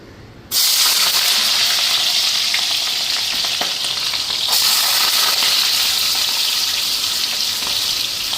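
Squash and potato pieces dropped into hot oil in a pan, a loud continuous frying hiss and crackle that bursts in suddenly and holds steady close by, alone without voices.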